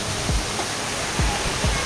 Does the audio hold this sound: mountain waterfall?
yes